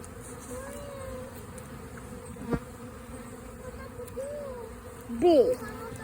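Honeybees buzzing and fanning inside a hive, a low steady hum with a few louder passing buzzes near the end, close up, with a voice talking briefly.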